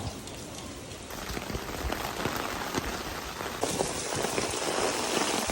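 Steady light rain in Barcelona patters on surfaces nearby, a dense, even hiss of drops with no voices.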